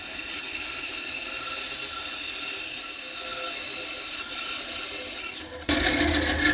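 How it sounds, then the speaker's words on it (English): A bandsaw fitted with a 59-inch, quarter-inch blade cutting wood, producing a steady raspy whine and hum that runs continuously, then shifts louder and rougher near the end. "Now this is a 1/4 size inch blade on my bandsaw, 59 inches all the way around."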